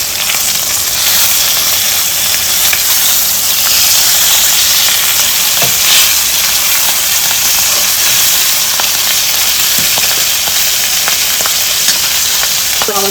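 Red snapper sizzles steadily in a hot pan after being flipped, a continuous bright frying hiss that holds level and close throughout, with a few faint clicks and stirs and no talking.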